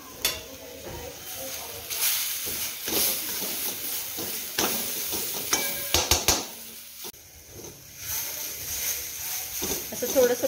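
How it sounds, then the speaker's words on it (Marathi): Coriander powder and chili paste sauté in hot oil over low heat, with an intermittent sizzle, clinks and scrapes from stirring, and someone talking over it. "त्याच्यामध्ये जी धने पूड, त्याच्यामध्ये जे मिरचीचं वाटण होतं तेही परतून देते"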